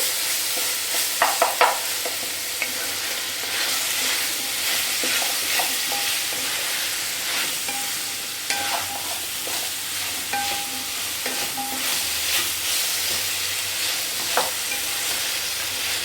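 Ginger garlic paste fries in hot oil in the middle of a pan while cooking a broad bean pulao, giving a steady close sizzle with brief scraping stirs and clinks, and no talking.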